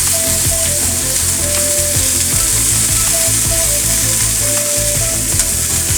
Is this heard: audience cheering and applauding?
no